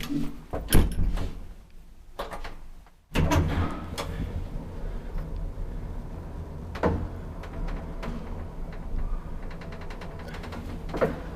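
Heavy metal doors of a 1956 Kone traction elevator sliding and closing, with a loud clunk near the start, a brief pause, then a long rumbling run of machinery and rattles carrying on, close and fairly loud.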